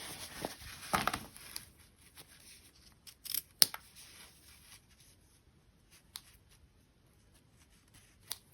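Scissors trim the seam allowance on a freshly stitched denim jeans waistband, with a few close, crisp snips at irregular intervals amid quiet handling of the fabric.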